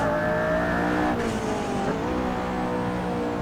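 A McLaren P1 howls around Zwartkops in Assetto Corsa, its engine holding a loud steady note while the tires squeal and the pitch dips and recovers through a corner, close and continuous.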